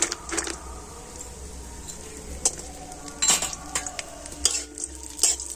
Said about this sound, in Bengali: তো প্রথমে আমি কাজু আর কিশমিশটা একটু হালকা করে ভেজে নিচ্ছি।